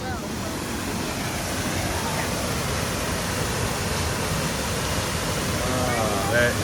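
A scenic waterfall, not especially powerful, rushes steadily over moss-covered rocks as a continuous broadband roar that holds even throughout, with faint voices briefly audible over it.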